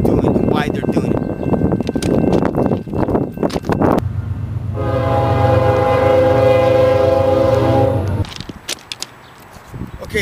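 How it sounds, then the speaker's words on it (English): A freight train rumbles past close by, its horn blaring in a long sustained blast over the heavy rolling noise, with someone talking over the approach beforehand. "I had to move out of the way real quick because the freaking train was coming."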